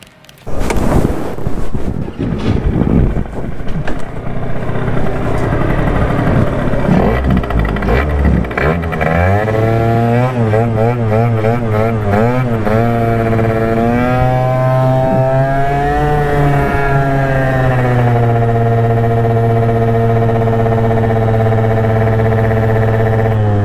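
A Yamaha Aerox scooter pulls away from rest up to 30 mph, its engine note climbing steadily and loudly with rising whine and wind rush, close and continuous with no talking.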